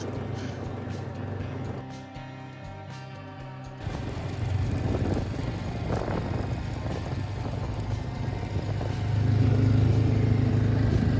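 A BMW G310 GS motorcycle climbing a high-elevation mountain trail in the Colorado and New Mexico backcountry: steady single-cylinder engine drone mixed with wind buffeting, quieter at first, then growing louder and rougher as the throttle opens.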